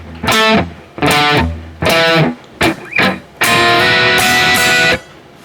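An electric guitar with an effects unit and distortion plays the chorus: loud, separate chord stabs and short phrases, ending in a long sustained ringing chord, with no talking.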